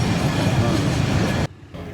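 A Babaranjang train rumbles past on the rails with a dense rolling clatter after a collision with a trailer truck, then the noise cuts off abruptly near the end.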